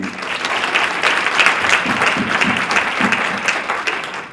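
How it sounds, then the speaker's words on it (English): Warm applause from a crowd at a legislative reception in Annapolis, sustained, dense clapping heard close and continuous with a faint murmur of voices underneath. "Another round of applause for Delegate Healey."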